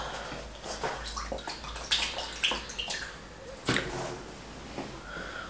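Water splashing and running at close range during handwashing, with irregular bursts of splashing and dripping over a faint background hum.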